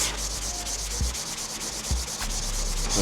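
Hand sanding an iron engine block with 400 grit sandpaper after spraying it with penetrating oil, a close, steady back-and-forth scraping rub that continues without pause.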